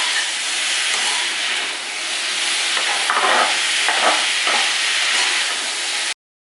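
Grated carrots fry in ghee for carrot kheer, a steady close sizzle and hiss with scraping stirring strokes across the pan, continuous until it stops abruptly.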